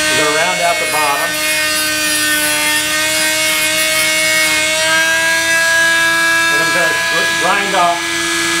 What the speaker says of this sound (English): using a Dremel tool and a sanding drum